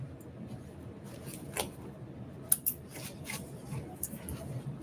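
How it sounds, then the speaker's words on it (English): Small snips trim loose threads on a sewn fabric maker caddy bag, making a few quiet, crisp, close-up clicks spaced irregularly over low background hiss. "if you've got little snips, they come in handy to get those little threads taken care of"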